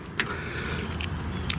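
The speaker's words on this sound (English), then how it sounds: "So we get our little key in here." Keys jangle and clink near the trunk lock of a 1976 Oldsmobile 98 Regency Coupe, with several light metallic rattles in quick succession, close and fairly loud, with no talk.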